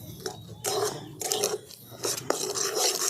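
Nuts, sugar and other sweet ingredients being mixed together in a pan for chamcham, with soft repeated rasping and scraping strokes of a spoon, close and fairly quiet.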